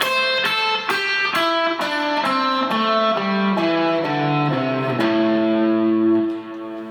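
Distorted electric guitar runs down a minor pentatonic scale one note at a time, evenly picked, ending on a held low note that rings out.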